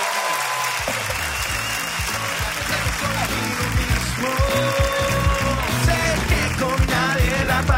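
A live audience at a Spanish-language comedy talk show claps loudly and continuously, a dense wash of many hands mixed with some tonal background sound and faint voices throughout.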